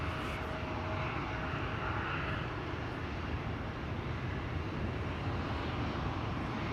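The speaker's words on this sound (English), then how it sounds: "Austrian is going back to Vienna again" An Austrian Airlines jet departs Amsterdam Schiphol for Vienna with a steady, broad engine roar that holds at an even loudness throughout, heard from a distance outdoors.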